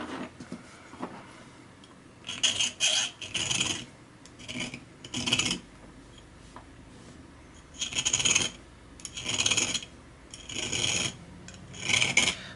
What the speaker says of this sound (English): just very patiently I'm going to use a round file like this